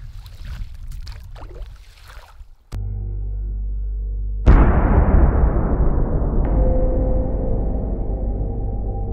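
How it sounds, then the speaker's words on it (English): A sudden loud dynamite blast on a frozen lake breaks in and then rumbles on, a heavy roar that keeps going for several seconds before slowly fading. "So yeah, the dynamite explosion was quite big."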